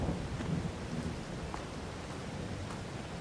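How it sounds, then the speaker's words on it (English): Rain and thunder in Farming Simulator 22: a dense, steady downpour hiss with low rolling rumbles of thunder underneath, loud and continuous, no voices. "it's been raining for a couple of days here, and it's supposed to be raining for another few days"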